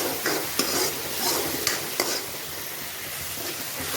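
Egg bhurji with crushed kasuri methi being stirred in a hot pan: a close, busy sizzle with a few sharp scrapes and clinks of the spoon early on, then a softer steady frying hiss, no talking.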